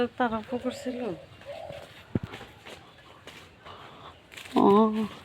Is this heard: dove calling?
yes